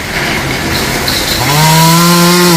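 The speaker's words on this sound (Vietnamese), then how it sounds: "Bây giờ cưa xuống phần gốc luôn rồi." A saw cuts into the base of a large mangrove apple tree leaning over a fence, its motor droning loudly and then revving up to a higher, steady whine as the blade bites into the trunk.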